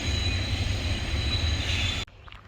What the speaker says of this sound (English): there is a train going by down here on the tracks